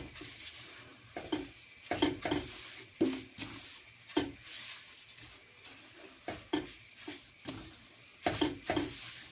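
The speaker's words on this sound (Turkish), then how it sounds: "Ağır ağır sabırla helvayı kavurmaya devam ediyoruz." Semolina halva is stirred and roasted slowly in a pan, with repeated soft scrapes and clinks of the utensil against the pan in an uneven rhythm over a faint steady sizzle, close and fairly quiet.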